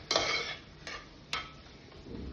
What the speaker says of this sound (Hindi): अब इसे अच्छे से मिक्स करना है।